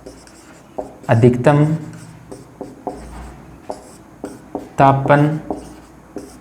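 Marker or chalk strokes on a board during a class 10 science lesson, soft scratchy taps and short strokes at a steady pace, heard between a teacher's spoken phrases.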